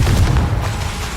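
A single Confringo blasting spell explodes in Hogwarts Legacy, a loud, close, heavy boom with a short rumbling decay. No voices.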